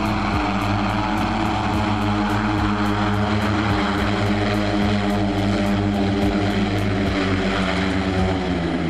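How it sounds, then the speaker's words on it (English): A propeller-driven flying car drones steadily and loudly throughout, its engine hum constant with a fast rhythmic beating from the spinning blades. "Flying car."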